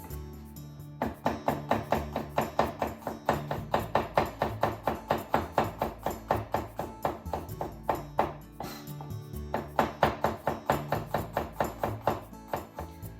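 A knife slices eight peeled garlic cloves into thin slices with quick, even taps that repeat at a steady rhythm, quiet and close, with two short pauses.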